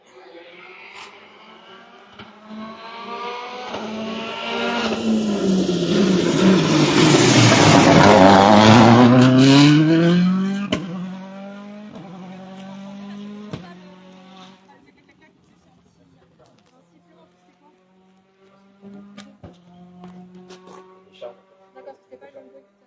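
Citroën DS3 WRC rally car engine during a test session, its loud revving roar with gear-shift pops building to a peak as it passes close by, then fading into the distance, with people talking over the quieter tail.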